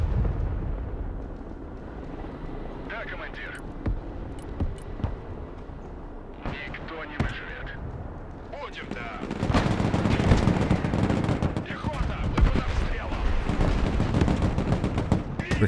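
Gunfire and anti-tank weapons fire in the Broken Arrow video game, where recoilless rifles, ATGMs and RPGs engage an Abrams tank. Sharp shots and blasts go off sporadically at first, then build into a dense, loud stretch of rapid bursts and booms.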